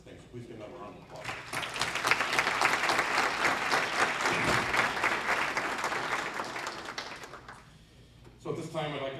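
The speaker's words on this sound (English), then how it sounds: "So please give another round of applause." A dinner audience at the 2013 Windsor Chamber of Commerce annual dinner claps in a loud, sustained round of applause that tapers off briefly near the end before a short final burst.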